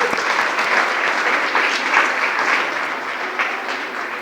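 A church congregation gives the Lord a strong round of applause, dense and sustained hand clapping filling the room from start to finish, slowly easing toward the end.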